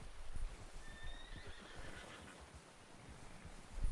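A horse in the Western video game Red Dead Redemption gives a faint, fairly distant neigh over soft hoof clops and a low rumbling background, with no one talking.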